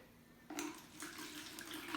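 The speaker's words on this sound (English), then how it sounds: "I'm going to get her to fill the base of our ecosystem up with some water" Water poured into the base of a small homemade ecosystem, a soft splashing stream that starts abruptly and continues steadily, fairly quiet and close with no talk.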